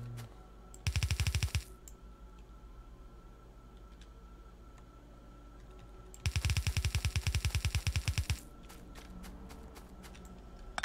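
Gun turrets in Factorio firing iron bullets: two bursts of rapid rattling fire, one short and one longer lasting about two seconds, loud over a steady low background hum of the game.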